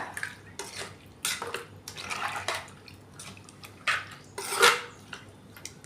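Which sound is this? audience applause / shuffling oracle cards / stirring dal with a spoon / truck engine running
stirring dal with a spoon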